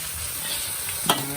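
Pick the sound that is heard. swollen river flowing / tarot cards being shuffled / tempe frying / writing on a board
tempe frying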